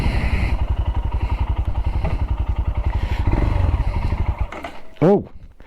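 A Royal Enfield Himalayan single-cylinder engine thumps in a steady, rapid idle pulse, loud and close, before cutting out near the end with a brief rising whine and a thud.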